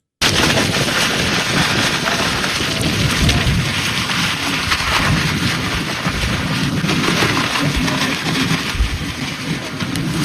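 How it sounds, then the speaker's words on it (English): Loud, constant roaring wind gusts ahead of storms buffet the microphone with heavy rushing noise and low thumps throughout, without any talking. "That is the sound of strong wind gusts before those rough storms"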